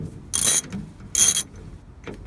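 Ratchet wrench working bolts loose from the bumper of a classic Mustang, two bursts of rapid clicking ratcheting close by, separated by quieter handling noise and a faint knock near the end.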